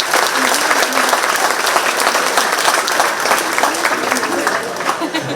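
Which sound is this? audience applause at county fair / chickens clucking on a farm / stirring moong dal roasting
audience applause at county fair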